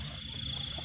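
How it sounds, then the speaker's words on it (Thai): A large frog croaks by the water at night near a parked car during a frog-catching outing, a steady stream of low, close pulsing calls, with a thin, constant insect-like whine above. "กบตัวใหญ่ด้วย"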